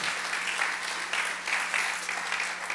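Applause from a church congregation at a worship service, a steady patter of many hands clapping at moderate distance, with slight surges in intensity and no voices over it.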